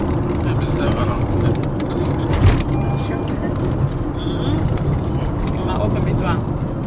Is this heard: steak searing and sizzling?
no